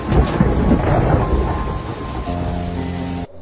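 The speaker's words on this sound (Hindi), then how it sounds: "गड़गड़ाहट के साथ बारिश होने लगी।" Thunder rumbles over heavy steady rain in a Hindi horror animation: a loud low rolling boom over a dense hiss of rain, then a held sustained tone before a sudden cut.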